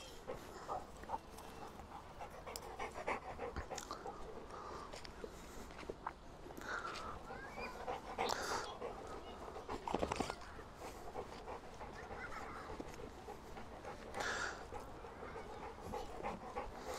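Dogs panting faintly and steadily during a walk in a park, with soft footsteps and occasional brief whimpers, distant and low in level, no talk.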